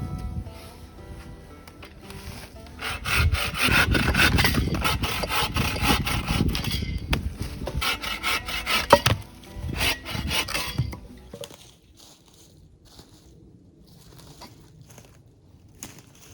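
Rapid rhythmic sawing through wood at a winter campsite, rasping strokes close up for several seconds, then it stops and only quiet ambient noise remains.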